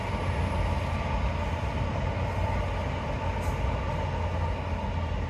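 A train rumbles past near an orchard, a steady low roar of wheels and engine holding at even loudness, with faint birdsong above it.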